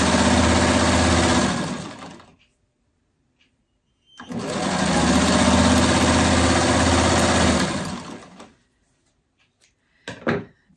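A sewing machine stitches a fabric seam on a freeform alphabet piece, running in two steady, loud bursts with a pause between, followed by a brief click near the end.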